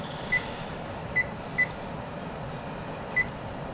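A kitchen timer being set while steaming fish gives four short, faint electronic beeps at uneven intervals over a steady hiss of background noise.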